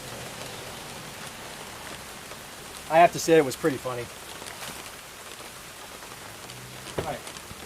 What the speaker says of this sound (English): it's raining like crazy now